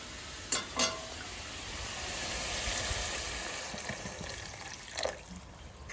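Water goes into sautéed pumpkin greens in a hot pan, giving a swelling hiss of sizzling and bubbling. A few sharp knocks of the utensil come before and after. No one speaks.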